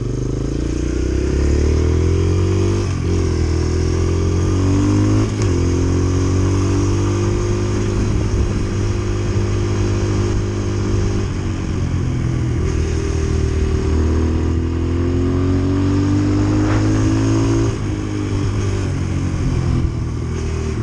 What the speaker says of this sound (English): That's how you ride a dirt bike.